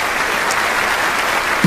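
Audience applause at a church sermon by Dante Gebel, a steady, even roar of many hands clapping throughout, ending with a brief low thump.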